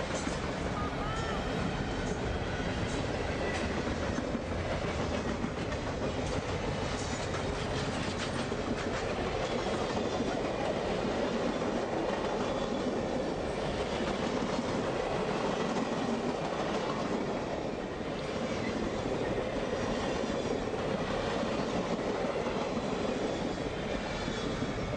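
Nickel Plate 765 steam locomotive rolls past with Norfolk Southern heritage units 1070 (Wabash) and 1072 (Illinois Terminal) trailing, a steady, dense rumble and clatter of rail cars that holds for the full length near the Merchants Bridge approach in St. Louis.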